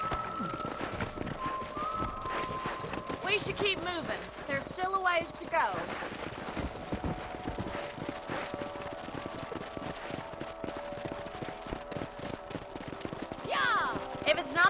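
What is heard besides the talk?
horses galloping, hooves clip-clopping, Red Dead Redemption video game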